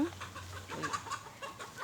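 Chickens cluck in a series of short, choppy calls at moderate distance, repeated irregularly over a steady low hum, with no one talking.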